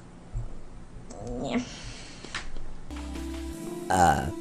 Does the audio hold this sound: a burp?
yes